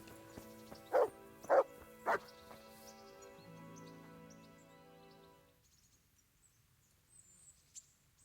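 Dogs in Kingdom Come: Deliverance give three sharp, loud barks about half a second apart over a sustained musical background, which then fades to near silence with faint distant sounds.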